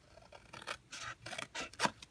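Close, rhythmic snips and rasping strokes of scissors cutting through a paper card flap, several cuts in quick succession in a quiet room.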